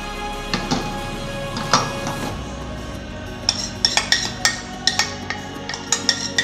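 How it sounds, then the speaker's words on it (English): A whisk clinks against a bowl of sponge cake batter with egg yolks, vanilla and salt, a few scattered taps at first and then a quick, regular run of close metallic ticks. "continue whisking for 3 minutes"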